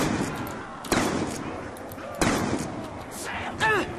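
Shotgun blasts in a video game called Buried: three sharp, loud reports spaced about a second apart, each followed by a short decaying tail, with faint background game noise between them.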